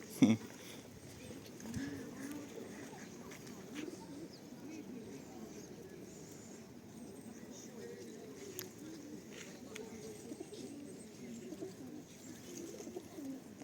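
Soft pigeon cooing murmurs low and steady throughout, mixed with faint outdoor ambience and occasional light clicks.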